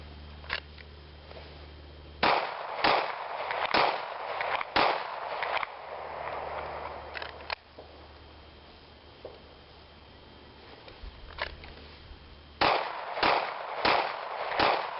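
Handgun shots fired after a concealed carry cross draw: two bursts of rapid, sharp reports, each with several evenly spaced cracks and a quieter gap between them.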